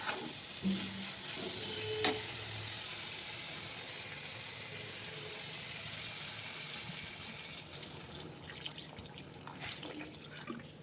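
Water poured into a spice masala in a hot pan for a fish and potato curry gives a steady, close sizzling hiss with a few drips and a brief clink early on, and no one talks.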